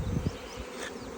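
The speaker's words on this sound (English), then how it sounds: "These are much more docile bees than that last one, that first one." Honey bees buzz at a beehive, a steady dense drone of many insects close by, with no voices over it.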